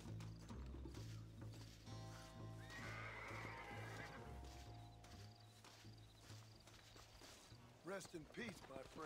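A horse in the Red Dead Redemption video game whinnies loudly over steady clip-clopping hooves, set amid other game sounds with voices in the background.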